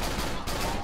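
Shotgun fire in the horror video game Cry of Fear: a brief, loud, dense burst of gunfire filling under a second, with no clear gaps between shots.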